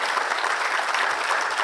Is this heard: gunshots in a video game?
no